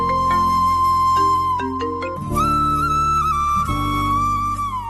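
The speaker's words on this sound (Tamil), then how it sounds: "ஃபோன் ரிங் ஆகுது பாரு." A phone rings with a bright, melodic electronic ringtone that plays loud and continuous, with shifting tones and a fuller second phrase, alone without talk.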